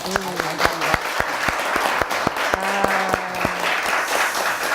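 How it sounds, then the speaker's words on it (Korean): Audience applause at a university-related talk show event, a scattered clapping patter with sharp individual claps, playing beneath a voice that keeps talking over it. "자, 그 자랑에 박수를 한번 보내고 싶습니다"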